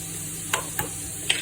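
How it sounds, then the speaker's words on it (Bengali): Shrimp frying in a pan for a prawn risotto, a steady soft sizzle broken by three brief stirring scrapes spaced across the moment, close and moderately quiet with no talking. "চিংড়ি মাছটা ভাজতে থাকুক"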